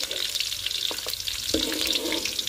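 Thuthuvalai leaves drop into hot oil and sauté, giving a close, bright crackling sizzle with a couple of short clatters as they are stirred.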